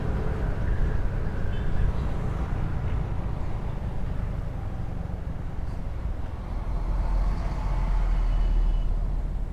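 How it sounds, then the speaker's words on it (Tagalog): Afternoon traffic on Governor's Drive heading toward Tagaytay, a dense continuous rumble of cars and trucks heard from inside a vehicle, steady and fairly loud throughout. "Medyo traffic na kasi alas 4 na."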